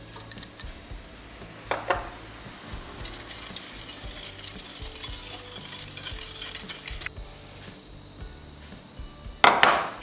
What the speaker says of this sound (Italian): e continuo a mescolare